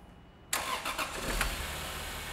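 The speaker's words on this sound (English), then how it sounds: "let's go ahead and fire the engine and see what we got" An inline six car engine cranks and fires, catching abruptly and settling into a steady, loud rumbling idle close by.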